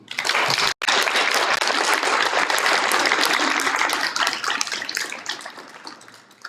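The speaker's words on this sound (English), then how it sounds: "so we can all applaud" An audience at a fifth grade moving up ceremony applauds award recipients, dense loud clapping that breaks for an instant, then continues and gradually thins and fades toward the end.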